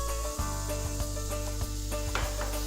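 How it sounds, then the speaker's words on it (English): Food sizzles in a hot pan with a steady crackle, under a low background hum and a few soft clicks and scrapes. "Nice and sizzling."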